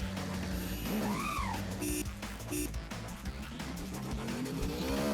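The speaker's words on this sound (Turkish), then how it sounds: "sese bak arabanın" A fast car races in the Roblox Driving Empire game, its engine rising and whining with sweeping pitch changes and tire squeal over a steady game soundtrack, moderately loud.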